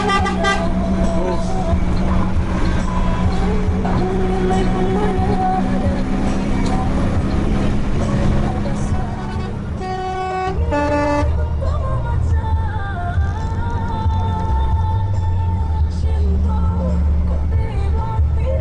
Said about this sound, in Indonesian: dengar suara mesin ini